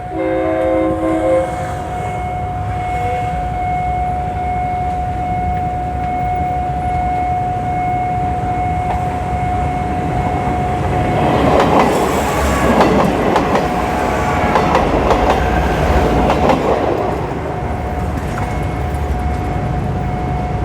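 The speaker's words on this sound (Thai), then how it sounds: "สปินเตอร์ขบวน 998 ผ่านจุดตัดทางรถไฟถนนเพชรอุทัย" A train rumbles past the Phet Uthai Road railroad crossing in Bangkok, with a steady crossing signal tone and rising clatter of wheels on rails as the cars go by.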